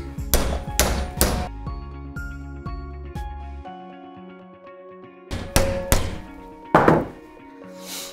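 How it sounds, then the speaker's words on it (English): A hammer strikes metal clamped in a vise while building a DIY dolly slider rig; several loud, sharp ringing blows come in clusters near the start and again later, with metallic ring trailing between them. "And then I'm going to hit it with a hammer,"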